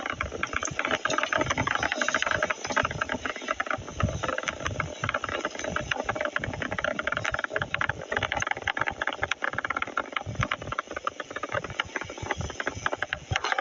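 Falcon Heavy rocket with side boosters and center core during launch, a continuous rough roar with crackling rattle, steady and dense throughout, heard at a distance with no clear talk.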